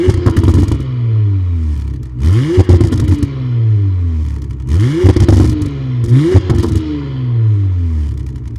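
A Porsche Macan SUV fitted with a Fabspeed valve exhaust revs hard and loud, three or four rising engine sweeps that fall back between pulls, close up with no voices.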